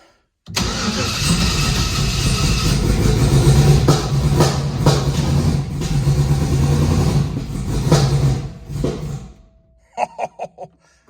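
A junkyard LS V8 cranks and fires up, running loud and rough with several sharp revs, then cuts off, followed by a few short bursts at the end.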